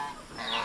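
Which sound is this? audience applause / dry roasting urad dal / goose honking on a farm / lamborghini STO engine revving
goose honking on a farm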